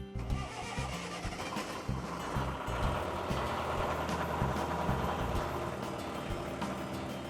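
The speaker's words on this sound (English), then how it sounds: "Now it's time to turn the engine over" A marine boat engine is cranked and started after an oil change during winterizing, a rapid starter churn catching into a steady, fairly loud mid-pitched running rumble close by.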